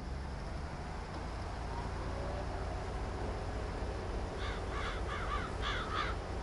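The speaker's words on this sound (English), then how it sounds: "Get out of here, birds." Several crows caw in a farming video game, a cluster of rapid harsh calls arriving late over a steady hiss of background noise.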